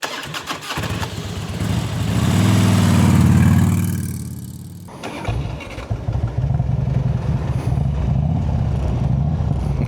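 A motorcycle engine cranks, rises briefly in a loud surge, then settles into a steady, rumbling idle close by.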